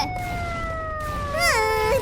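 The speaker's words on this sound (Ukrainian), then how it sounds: "Ця сирена ще!" A siren in the Minecraft video game wails in long steady tones that then bend and warble, mid-loud, while the players shout over the chaos.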